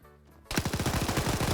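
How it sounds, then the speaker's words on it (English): Rapid machine gun bursts ring out loud and close during a first-person shooter PvP match, starting abruptly after a short quiet lead-in and continuing as a steady string of sharp shots. "Grav pre-firing corners here as Sam now runs out"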